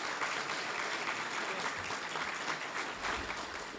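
An audience at a fire department awards ceremony applauds a promotion with steady, dense clapping throughout, heard from some distance at a moderate level.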